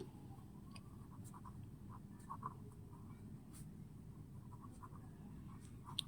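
A pen writes numbers on paper in a quiet room, with faint, scattered scratches and light taps that come and go against a steady low background.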